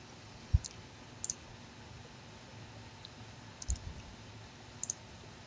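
A computer mouse gives several faint, sharp clicks, single and in quick pairs, spaced out over a quiet room hum.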